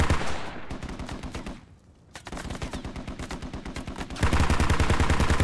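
Armoured vehicle combat in the video game Squad, with a Striker armoured vehicle firing its guns: rapid, loud bursts of automatic gunfire with a brief lull, then a denser, heavier volley that runs to the end.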